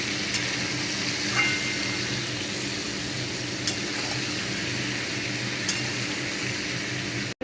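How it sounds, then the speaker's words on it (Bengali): Boiled soybean chunks frying in oil in a pan, a continuous low sizzle with a few faint clicks of stirring, steady and close, no voices. "এটা ভাজা ভাজা হবে।"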